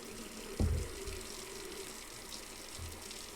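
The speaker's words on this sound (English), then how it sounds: "The water is slowly filling." Water fills a brewing pot in a homebrew simulator game, a soft steady gush running quietly throughout with a single dull knock early on.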